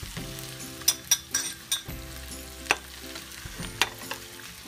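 Pork chop frying with onions and garlic in a pan, a soft steady sizzle punctuated by several sharp crackles and pops of spattering fat, fairly quiet and with no talk.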